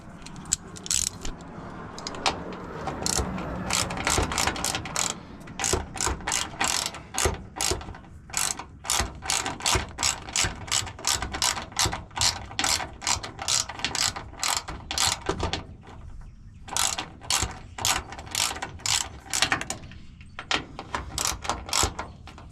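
A ratchet tightens a fuel filter on a GMC S-10 pickup with rapid, loud, close clicking bursts. The clicking comes in repeated runs separated by brief pauses.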